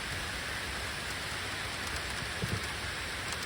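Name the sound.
rain falling on a thin beehive lid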